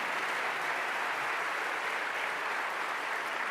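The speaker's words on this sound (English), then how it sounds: "Nice round of applause for him" Sustained applause fills a conference hall at Bloomberg CityLab as Madrid's Mayor Almeida is recognised. A thick, continuous wash of many hands clapping holds at an even level from start to finish, with no voices over it.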